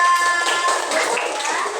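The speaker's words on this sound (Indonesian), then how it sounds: "Tepuk tangan untuk Aska." A third-grade class at an elementary school claps together for a pupil, a dense burst of many small hands filling the room, with children's voices talking over it.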